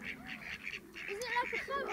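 Geese and swans honk and call at a lakeside, several close, overlapping squawks and honks in irregular bursts while people talk nearby.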